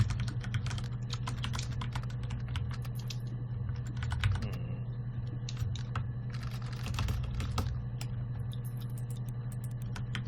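Keys clatter on a keyboard for the Her Story game in irregular bursts of close, crisp taps over a low steady hum, with no voices.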